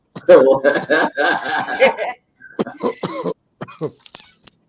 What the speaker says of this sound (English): I haven't heard you cough like that since back in the day